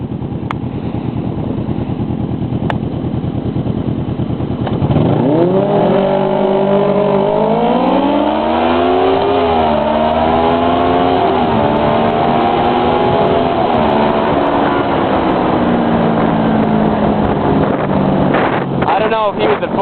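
Kawasaki Ninja 636 motorcycles accelerate hard: after a few seconds of wind rush, an engine note climbs sharply and keeps rising through the gears, loud and close, then fades back into wind noise near the end.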